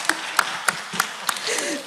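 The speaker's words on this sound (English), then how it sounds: "Let's give a round of applause." Scattered hand claps from an audience at a conference ceremony. Five or six evenly spaced claps ring out clearly over a busy background wash that builds into broader applause at the end.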